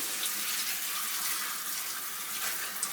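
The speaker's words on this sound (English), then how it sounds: "I'm washing them. I am rinsing the heck out of them. I do use a lot of water" Tap water runs steadily into a sink as strawberries are rinsed under it, a continuous close splashing hiss with no talk.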